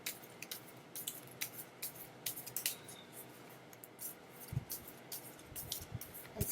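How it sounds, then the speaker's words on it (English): A tarot card deck being shuffled close by, giving a run of soft, irregular papery riffles and snaps with no talk over them. "I'm shuffling this deck, this tarot deck"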